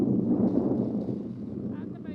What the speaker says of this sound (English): And I'll just wait for this trailer to go by.